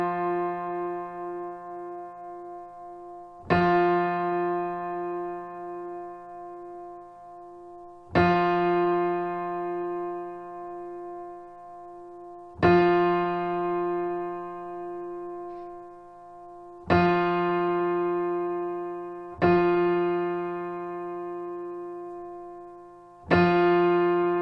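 A piano octave from F3 to F4 being tuned, struck six times every few seconds, each sustained tone decaying slowly while its slow beating pulses and shifts as the interval is adjusted.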